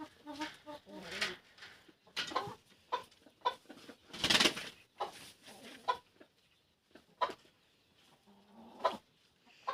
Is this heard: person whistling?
no